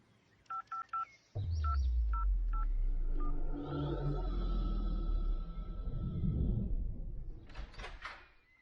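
Telephone dialing tones: a quick series of short keypad beeps, loud and close, followed by a heavy low thud and rumbling room noise.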